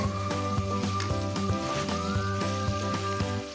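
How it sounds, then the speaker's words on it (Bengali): Meat being stirred and browned in hot oil, giving a dense, close, continuous sizzle with rhythmic knocks from the stirring utensil over a steady tonal hum, no voices. "এভাবে আমি মাংসগুলো গরম তেলের থেকে হালকাভাবে নেড়ে চেড়ে কষিয়ে নেব"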